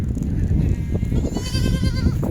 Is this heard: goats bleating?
yes